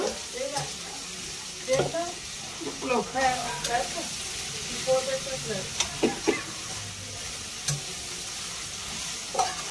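Raw plantain frying in a hot pan on high heat, a continuous sizzle with stirring scrapes and crackles close by, while people talk intermittently over it.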